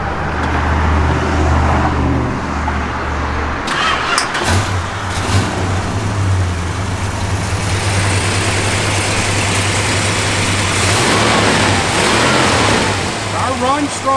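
A 1969 Plymouth Road Runner cruising on the road, with a steady low engine drone and road rumble running throughout, loud and close.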